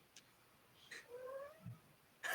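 A cat is chased out of a garden in the game School of the Stars, giving a short rising yowl and caterwaul amid a few brief thumps and rustles, fairly faint and close.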